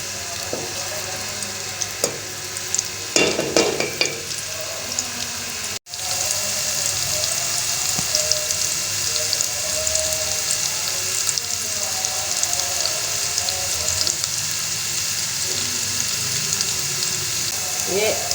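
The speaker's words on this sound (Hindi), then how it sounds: "ऑयल के बाद जो जा रहे हैं प्याज। प्याज को थोड़ा सा भून के" Onions frying in oil in a pan for a potato bhujia, a steady soft sizzle running throughout with a few brief clinks and stirring scrapes near the start.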